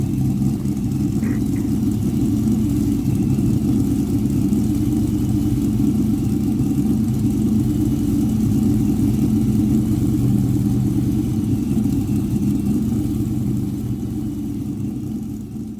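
A 1998 Mustang Cobra idles with a newly finished exhaust, a steady deep rumble with a low throbbing pulse held evenly, close and fairly loud, easing slightly at the end.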